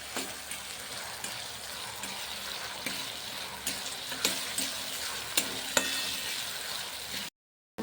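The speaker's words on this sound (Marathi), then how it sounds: "तेल घातलेलं आहे त्यामध्ये मसाला घालून घेऊया आणि मसाला व्यवस्थित भाजून घेऊया" Spice masala roasting in hot oil in a pan for a pumpkin bhaji crackles with a constant close sizzle, broken by spatula scrapes and light taps, then stops abruptly near the end, with no one speaking.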